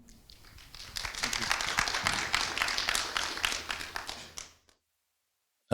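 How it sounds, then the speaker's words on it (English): A conference audience applauds a Python talk speaker, a swelling burst of clapping that holds for several seconds, then fades and stops. "A round of applause for Binyamin."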